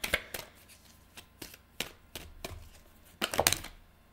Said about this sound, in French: Je vais prendre une carte oracle des couleurs.